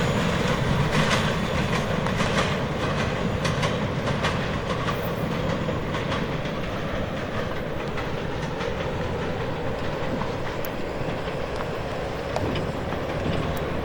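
An old Portland Western mixed freight train rolls past at Fox, a loud, continuous rumble of wheels with steady clickety-clack from the railcars, close and sustained throughout, with no voices.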